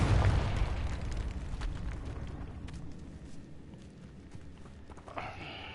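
A Confringo blasting spell explodes in the Hogwarts Legacy video game: a heavy boom opens, then a long rumbling tail slowly fades, with faint footsteps and a brief burst near the end.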